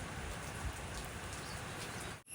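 Steady rain falls at a railway station in the forest at Walayar, a dense, even hiss of drops close by and unbroken, with no voices.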